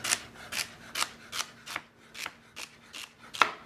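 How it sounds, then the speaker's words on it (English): A knife slices through poultry on a board in quick, rhythmic strokes, about eight evenly spaced scraping cuts in a row, close and fairly soft with no voices. "I'm just going to slice this really quickly."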